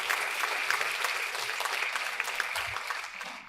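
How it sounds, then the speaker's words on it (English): Sustained applause from a conference audience after a disaster-management panel, a dense even wash of many hands clapping steadily throughout without a break. "Let's give them all a warm round of applause"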